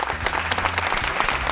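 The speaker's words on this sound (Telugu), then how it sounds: "ఒకసారి గట్టిగా క్లాప్స్ కొట్టండి." A large audience claps loudly and steadily in a dense, continuous wash of applause, with no voices standing out.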